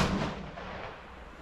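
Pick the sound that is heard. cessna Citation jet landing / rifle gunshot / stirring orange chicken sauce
rifle gunshot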